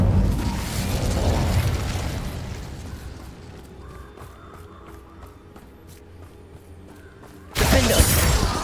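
Hogwarts Legacy's Incendio fire spell bursts out with a roaring, crackling blast that fades into a quieter rumble before a second loud whoosh of flame erupts near the end.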